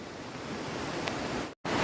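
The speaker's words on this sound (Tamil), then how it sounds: "தண்ணி பாருங்கள் ஃபுல்லாக தண்ணி வந்துக்கிட்டு இருக்குது எவ்வளோ தண்ணி பாருங்கள் போயிட்டுருக்குது" Rushing water at a Kolli Hills waterfall swollen after rain, a loud, continuous broadband roar close by, cut by a brief dropout near the end.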